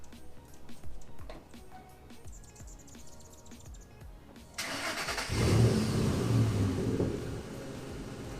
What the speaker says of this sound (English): So when I put my car up on the ramps,